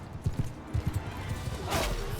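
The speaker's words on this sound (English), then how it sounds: "All right, let's get the horse over here" Horse hooves clip-clopping in Mount & Blade II Bannerlord, a run of irregular thuds up close, followed by a brief whooshing burst and steady background noise.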